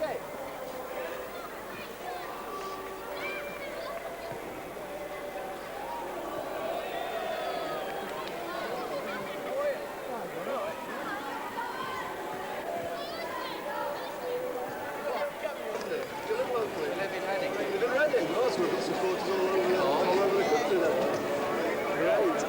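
Murmuring football stadium crowd during pre-match warm-up, a diffuse babble of many voices that slowly grows louder, with someone talking over it.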